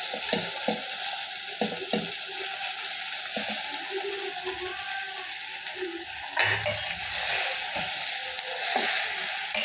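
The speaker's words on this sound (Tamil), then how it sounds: "நல்லா கிளறி விடணும்." A spoon scrapes and knocks as idli is stirred with cooked tomatoes in a pan over a low sizzle. The clinks are close and irregular, with a louder clatter partway through.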